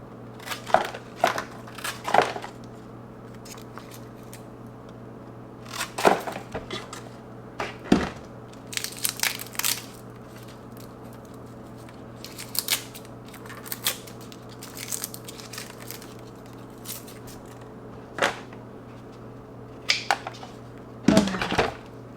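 Plant cuttings for propagation being snipped with scissors or shears: scattered crisp clicks and snips, some in quick clusters and others isolated, over a faint steady background hum.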